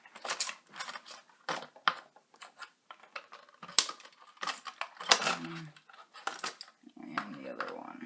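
Scissors snipping plastic ties on the packaging of a Cheerson CX-10A quadcopter: a series of sharp close clicks and snips in uneven bursts, with crinkling of plastic between cuts.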